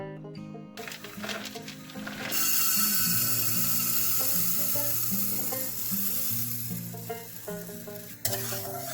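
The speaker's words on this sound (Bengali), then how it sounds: "মুগ ডালটা ভেজে নিচ্ছি" Mung dal dry-roasting in a pan, giving a steady broadband sizzling hiss with light scraping as it is stirred, over a continuous tonal background.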